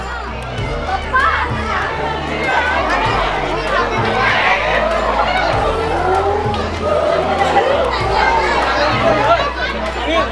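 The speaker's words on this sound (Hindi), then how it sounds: "भीड़ बहुत है।" Dense crowd chatter fills a busy tourist spot at a Royal Bengal Tiger reserve in Madhya Pradesh, many overlapping voices including children, steady and close throughout.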